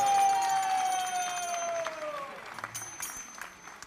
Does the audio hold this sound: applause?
yes